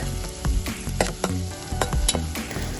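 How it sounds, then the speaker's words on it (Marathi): A medium chopped onion fries in hot oil toward golden brown, a close, steady sizzle crackling throughout with repeated spatula scrapes and taps against the pan, and no voices. "तेल गरम झालं की त्यामध्ये एक मध्यम आकाराचा चिरलेला कांदा घालायचा आहे आणि कांद्याला गोल्डन ब्राऊन कलर येईपर्यंत परतून घेत आहे"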